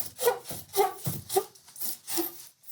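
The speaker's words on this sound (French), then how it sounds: "on peut le faire également avec une scie" A hand saw cutting through a URSA XPS foam insulation panel, five rhythmic back-and-forth rasping strokes, close and clear with a short pause after the last stroke.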